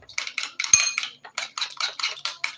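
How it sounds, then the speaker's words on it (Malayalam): A spoon scrapes and clinks against a pan while stirring a spiced masala egg mixture, quick repeated scraping strokes close up, with no talking. "എല്ലാം നന്നായിട്ട് ഇളക്കി കൊടുക്കുന്നുണ്ട്"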